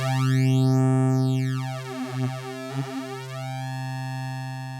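A buzzy pulse-oscillator tone from the Reason Thor synth with an LFO-modulated comb filter, a sustained harmonic drone whose sweeping notches rise and fall in a wave and then settle, steady and clear with no talking.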